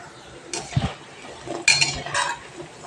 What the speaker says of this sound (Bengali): এই পকোড়াগুলো ভাজা হয়ে গেছে, তুলে নিচ্ছি।